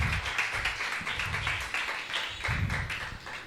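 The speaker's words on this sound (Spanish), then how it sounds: "Eso es para que uno aplauda" Steady applause from a church congregation, dense clapping filling the whole moment without a break, fairly loud and close.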